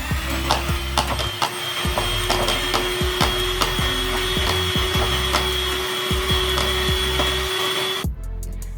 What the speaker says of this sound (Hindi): यहाँ पर घी और चीनी को बीट कर लिया है। तकरीबन 20 से 25 सेकंड के लिए मैंने इसे बीट किया था।